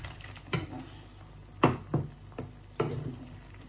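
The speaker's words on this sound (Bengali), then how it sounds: "আলু বেগুনটা দিয়ে দিলাম আর এখন দিয়ে দিলাম মাছটা।" Fish, potato and eggplant for a fish curry fry in a pan, with several distinct spoon knocks and stirring scrapes over a quiet sizzle, close and fairly faint.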